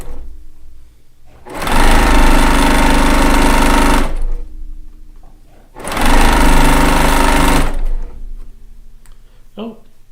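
A workhorse sewing machine stitches a quilt in two loud, close bursts of rapid mechanical whirring a couple of seconds each, separated by quieter pauses.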